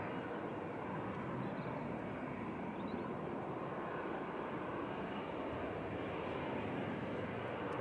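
An EasyJet airliner lines up on the runway at Manchester Airport, its engines giving a steady, broad roar that stays constant and fairly distant with no talk over it.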